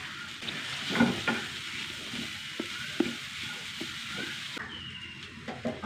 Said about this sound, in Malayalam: നന്നായി വഴണ്ട് വരട്ടെ